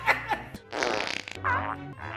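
Comedic movie fart sound effects from the film Thunderpants play in a quick series of loud, close blasts, some short and some drawn out, with a trace of laughter.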